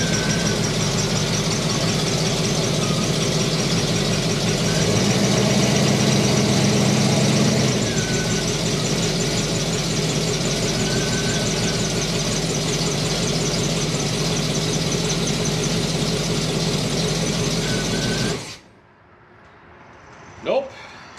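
A Chevelle's rebuilt 402 engine on a test run holds a loud, steady roar at high RPM for about eighteen seconds, then cuts off abruptly into near quiet.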